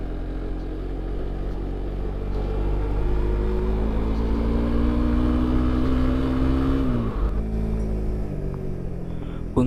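A Suzuki GSX-R150 motorcycle fitted with an aftermarket gear set climbs a steep hill in second gear, its engine droning loud and steady close by, pitch rising slowly before dropping briefly near the end.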